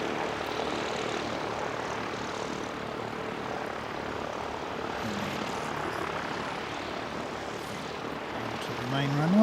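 A propeller aircraft drones steadily on departure from a runway at an aero club, a continuous, fairly distant engine hum that grows slightly louder at the end.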